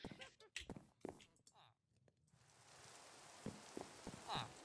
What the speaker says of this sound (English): And it is rain.